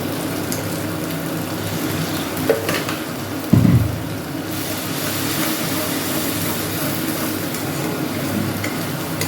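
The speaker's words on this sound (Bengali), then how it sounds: "মশলাটা কষছে, তলায় একটু লেগে আসছে, সামান্য একটু জল দিয়ে দেবো, দিয়ে আবার কষাবো।" A spice masala fries and is stirred in a pan as it starts sticking to the bottom. A steady, fairly loud sizzle runs throughout, broken by a couple of sharp stirring scrapes near the middle.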